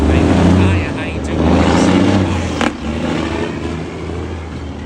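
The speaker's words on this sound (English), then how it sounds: "That big ass truck that just passed." A big truck passes on a Bronx street in New York City, its loud engine rumble swelling, dipping and swelling again close by, with a brief sharp bang midway and a person speaking over the traffic noise.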